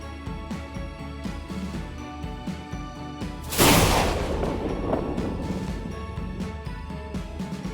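A single loud thunderclap from rain clouds bursts out midway over steady background music, then fades into a rolling rumble.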